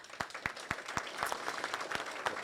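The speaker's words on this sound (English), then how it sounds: "You guys all get a huge round of applause in my book." An audience applauds staff at a culinary competition event, giving a steady wash of clapping with sharper individual claps poking through, moderately distant and continuous.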